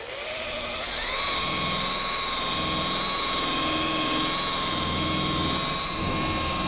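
An electric polishing wheel runs steadily while buffing polish into old, faded truck paint, a loud continuous motor whine with a sustained high tone throughout and no talking.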